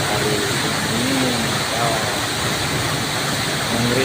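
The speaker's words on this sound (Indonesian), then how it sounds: "suara gemericik air terjun di seputar" Waterfall at Curug Dago near Dago, Bandung, a dense, steady splashing rush of falling water, close and fairly loud with no pauses across the whole stretch.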